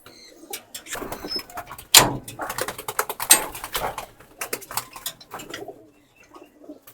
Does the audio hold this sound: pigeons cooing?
yes